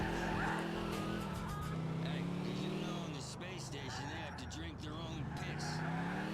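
A stolen car in GTA IV is driven against traffic down a city street, its game engine drone steady and loud with brief tire squeals, mixed under other game sound.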